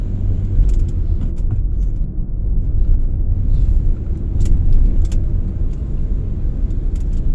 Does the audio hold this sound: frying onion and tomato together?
no